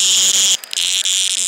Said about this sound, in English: this bug that's making all this noise, it's called a cicada